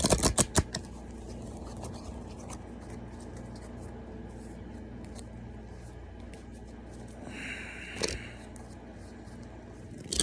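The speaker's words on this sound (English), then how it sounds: "Let me shuffle" A brief burst of papery riffling near the start, then a quiet stretch with soft rustling and a short scrape later on.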